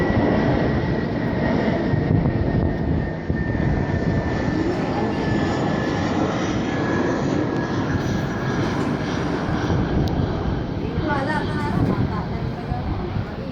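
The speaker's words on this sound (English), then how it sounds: "It's an A321." A Cebu Pacific Airbus A321 airliner roars at Manila with a loud, steady engine rumble and a thin whine that persist throughout; talk can be heard underneath.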